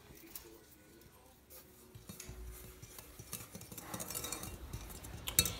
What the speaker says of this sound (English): I'm just going to give that a little whisk.